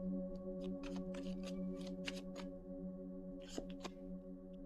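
Tarot cards are shuffled in a string of quick, crisp riffling bursts, close and soft, over a low steady background hum.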